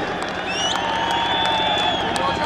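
A large outdoor crowd at a buzkashi match cheers and claps, a dense continuous roar with scattered whistles and shouts, loud and sustained throughout.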